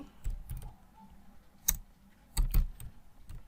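Keys on a computer keyboard clack in short, irregular bursts and single taps, fairly close and moderately quiet, with pauses between strokes and no talking.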